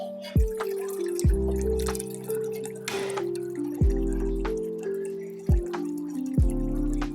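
Water from a tap pours into a pot for making tea, with repeated dripping, bubbling plunks and a rising filling tone, close and moderately loud.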